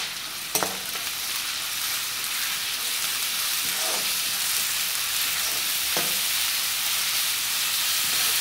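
Onions and ginger garlic paste fry in a pan for an Andhra-style fish curry, a steady close sizzle running throughout with a few brief stirring scrapes and no talking.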